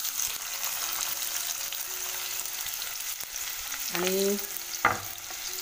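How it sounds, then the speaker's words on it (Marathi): Chopped onion hits hot oil in a kadhai and sizzles and crackles steadily, with louder spitting bursts as it is stirred near the end; a voice says a single brief word. "तेल बघा आपलं तापलं आहे. आता मी टाकते कांदा"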